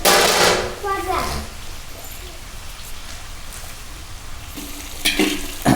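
Tomatoes dropped into hot oil in a pan for jackfruit biryani, a loud sizzle and spatter that settles into a softer steady frying hiss, then flares again near the end as the pan is stirred, with a voice talking over it.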